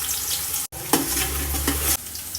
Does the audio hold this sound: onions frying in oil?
yes